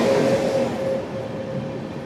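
The Okha to Ernakulam Express races through Gujarat as a steady, loud rumble of wheels and carriages with a thin whining tone on top, slowly easing in strength, with no voices.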